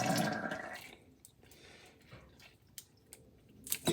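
Sweet barbecue sauce pours onto chicken in a short thick glug at first, then comes a few soft wet drips and squishes, close and fairly quiet.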